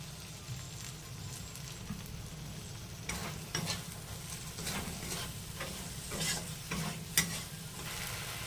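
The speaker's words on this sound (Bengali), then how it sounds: "এবার দিয়ে দেবো কাঁচা পেঁয়াজগুলো, চৌকো করে কেটে রেখেছিলাম পেঁয়াজগুলো দেবো।" Raw chopped onions tossed into spice masala fry and sizzle in a pan with a steady hiss, while scattered stirring scrapes come in after a few seconds, quiet and close with no talking.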